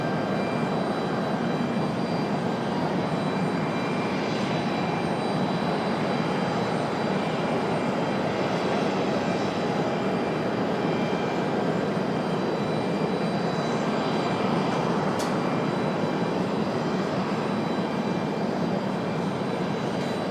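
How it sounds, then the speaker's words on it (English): A Delta jet airliner bound for Detroit takes off from Raleigh-Durham International Airport, a loud, sustained broadband engine roar that holds steady for about twenty seconds, heard at a distance with no voices. "All right, Delta 1407 off to Detroit. Going to be our second departure of the show."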